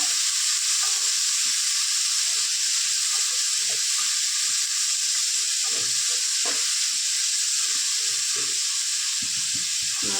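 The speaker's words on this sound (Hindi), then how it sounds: "बढ़िया फ्राई कर दो।" Steady, loud sizzling of masala and ingredients frying in a pan for rice-flour dhokla, a constant hiss broken by soft scraping stirs, with no voices.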